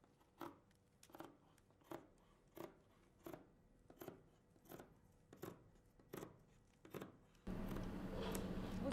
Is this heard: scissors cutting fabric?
yes